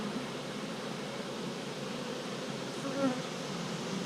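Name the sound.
honeybees on a brood frame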